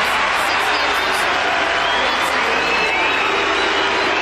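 Tennis match crowd, a dense wash of cheering and applause mixed with whoops, loud and continuous across the stands.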